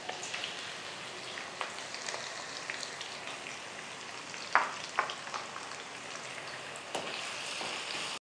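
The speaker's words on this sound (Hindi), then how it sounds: "प्याज मैंने लिया है एक बड़े साइज़ का, उसको स्लाइसिस में काट लिया है, तो फ्राई करते हैं।" Large sliced onions fry in about four cups of oil in a kadhai, producing a steady crackling sizzle like light rain, with a few sharper pops and stirring clatters.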